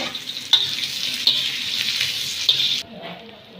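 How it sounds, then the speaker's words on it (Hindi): Sliced onions dropped into hot oil used for frying okra, giving a loud bright sizzle close by with a few stirring scrapes, ending abruptly. "उसी ऑयल में आपने ये प्याज डालना है।"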